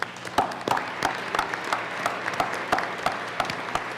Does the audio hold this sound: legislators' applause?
yes